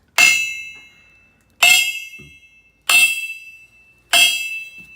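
A metal pipe lying on the ground is struck four times at an even pace, each hit giving a bright, close metallic clang with a sustained high ring that fades before the next blow.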